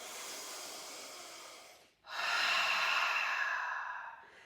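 Slow, steady yoga breathing during a held pose: a long airy breath, a short pause near the middle, then a second fuller breath that fades out. The breaths are close and quiet, with no talking.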